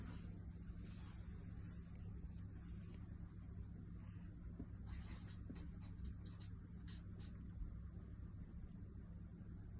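Pen or marker strokes faintly scratch out a maths question in short, intermittent bursts, quiet over a steady low hum of room noise, with no talking.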